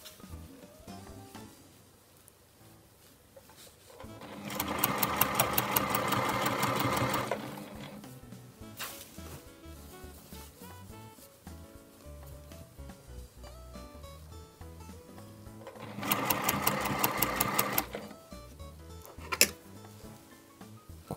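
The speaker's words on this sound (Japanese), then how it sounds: "この縫い目ギリギリまで縫っていきます" A sewing machine stitches fabric for a dog torso form in two loud, steady whirring bursts of a few seconds each, separated by quieter handling sounds and pauses.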